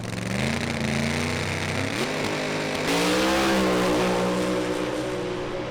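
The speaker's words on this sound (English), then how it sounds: "A little bit of tyre chatter off the line by the look of it there" A Pro Slammer drag race car launches off the line at Sydney Dragway, its engine revving hard with stepping pitch and a rough chattering edge from the tyres, loud and continuous throughout.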